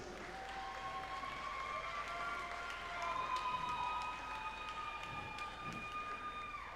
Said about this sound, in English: Another round of applause for your reigning Miss Galaxy.